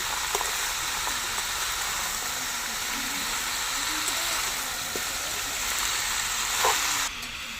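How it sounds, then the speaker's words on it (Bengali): Chopped ash gourd fries in oil with a continuous steady sizzle and hiss, occasional soft knocks of stirring audible throughout, fairly close and even in loudness. "চাল কুমড়ো তেলের সঙ্গে নাড়িয়ে চাড়িয়ে মিশিয়ে নিয়েছি"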